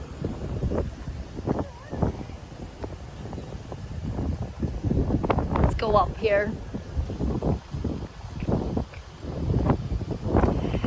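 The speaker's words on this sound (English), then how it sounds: "It's very windy." Gusty wind buffets the microphone outdoors near Tokyo Tower on a windy, rainy-looking day, with rumbling bursts under conversation and a brief whistling squeak partway through.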